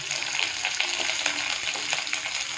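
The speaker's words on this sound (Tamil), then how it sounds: "அது பொன்னிறமாக வர வரைக்கும் நல்லா வதக்குறாங்க." Shallots and curry leaves sizzle steadily in a hot pan while being sautéed until golden, a dense close crackle with small spatters and occasional stirring, continuous and fairly loud with no talk.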